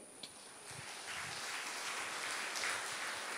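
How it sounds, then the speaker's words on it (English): A church retreat audience claps their hands, a dense, steady patter of many hands that sounds soft and distant and goes on without any speech. "Clap your hands for God."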